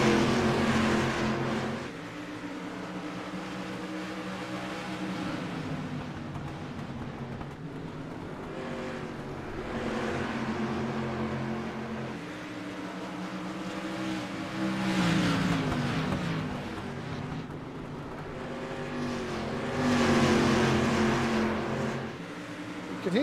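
Street stock race car engines at Oswego Speedway in the iRacing video game drone steadily. Pitch rises and falls as the cars circle, with louder surges of several cars passing together around the middle and near the end.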